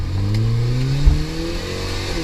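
BMW 120i with a custom 1M-style quad exhaust revving close by, its engine note climbing and falling through a couple of throttle blips with a brief bump midway, and no talking.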